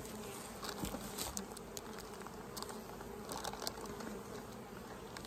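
Honey bees drone steadily around the hives in a bee yard, a continuous close buzzing with occasional individual bees flying past, and no talk.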